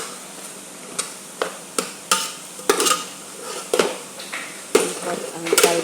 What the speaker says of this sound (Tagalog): Ikot natin ang kaldero natin.